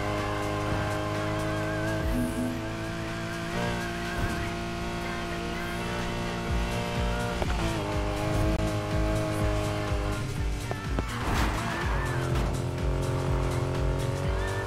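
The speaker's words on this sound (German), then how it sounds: "So, wieder mit Vollgas durchbrettern." Race car engine held at full throttle in the racing game Need for Speed Heat, a loud continuous roar with steady harmonic drone, shifting pitch and a brief tire-squeal flare near the end, with no voices.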